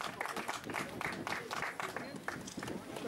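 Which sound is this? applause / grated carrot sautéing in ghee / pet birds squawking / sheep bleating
applause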